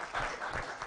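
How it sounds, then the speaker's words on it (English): An audience at a mastermind day event breaks into applause, a brief dense patter of clapping heard at moderate distance in a room. "I think that deserves a round of applause."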